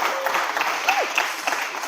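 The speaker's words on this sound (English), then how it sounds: "Can we get a round of applause for the ladies?" Audience applause at a book launch, a steady clatter of hands filling the room for under two seconds, with a few voices calling out over the clapping.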